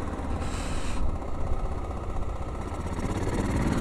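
Steady engine drone from a Honda car being driven around a residential street, a continuous mid-low rumble that holds at an even level throughout with no talk over it.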